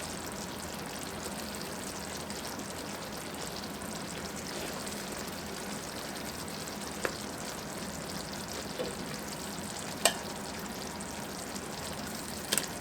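Chicken fries in a pan with a continuous, even sizzle and crackle, close and moderately loud, with a few small pops and no talking.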